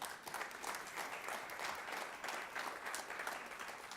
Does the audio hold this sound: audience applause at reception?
yes